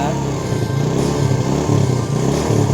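A Honda Jupiter Z motorcycle engine running steadily at low revs close by, a loud continuous buzzing drone with slight swells and no talk.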